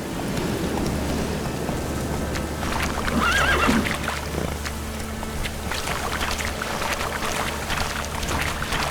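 In The Witcher 3, the horse Roach whinnies once in a short rising call, partly buried under continuous rain-like and watery ambient noise.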